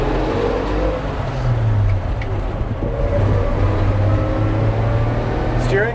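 A 1957 Chevrolet 3100 pickup truck on a road test drive, its engine drone and road and wind rumble filling the cab steadily and loudly throughout.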